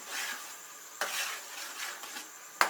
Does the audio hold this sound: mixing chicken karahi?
yes